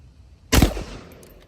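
A single AK-47 rifle shot fired at a steel target plate gives one loud, sharp close blast with a short decaying ring, and no voices.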